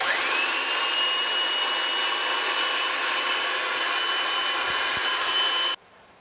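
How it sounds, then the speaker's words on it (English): A food processor runs loud and steady, whirring as it purees beef tamale filling, then shuts off abruptly near the end, leaving only faint room sound. "once we get it all pureed in the food processor"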